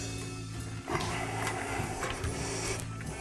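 Pipe cutter wheel turning around a pipe during a tub and shower renovation, close, quiet repetitive metallic scraping and clicking in short strokes, alone without talk.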